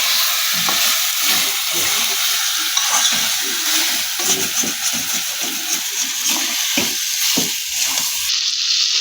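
Chicken meat with spices and fried garlic sizzling and being stirred in a pan, a loud, steady frying hiss with repeated scraping stirs throughout, no voices.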